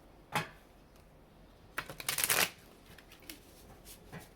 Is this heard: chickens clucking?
no